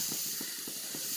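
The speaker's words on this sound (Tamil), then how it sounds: "நல்லெண்ணெய் ஊற்றிக்கலாம்." Sesame oil being poured into a hot pan while cooking Andhra-style country chicken, giving a steady close hiss with soft rhythmic sizzling pulses about every quarter second.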